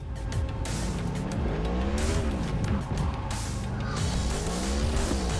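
A motorcycle engine revs as it is ridden in the Cyberpunk 2077 video game, its pitch sweeping up and down repeatedly, loud and close, with tire noise and no talking.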